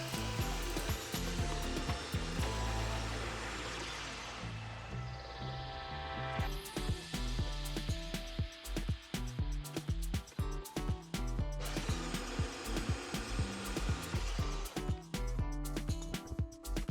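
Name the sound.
power tool cutting screws for a laser table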